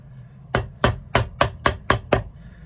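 A hammer handle rubbing and knocking against the leather sole of a Florsheim Yuma shoe. It makes seven sharp, evenly spaced strikes, close and fairly loud, with no talking.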